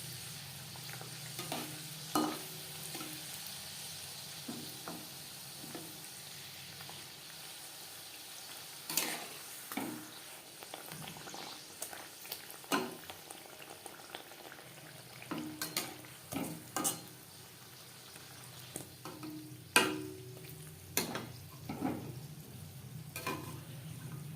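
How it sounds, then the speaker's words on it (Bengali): Pea-stuffed kachori frying in hot refined oil over a medium flame, a steady soft sizzle broken by sharp scrapes and clinks of a utensil at irregular intervals throughout, with no voices. "কচুরি ভাজবো মিডিয়াম ফ্লেমে"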